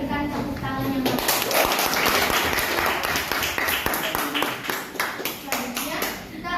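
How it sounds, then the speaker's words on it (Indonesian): Audience at a school law debate competition clapping together as a match session closes, a steady burst of applause with voices mixed in underneath throughout. "Mari kita berikan tepuk tangan yang baik."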